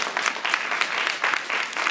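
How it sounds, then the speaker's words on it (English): A church congregation claps in praise during a Sunday morning service, a brisk, fairly loud run of many hands clapping together in an uneven rhythm, with no voices over it. "Y'all give God a hand clap of praise this morning."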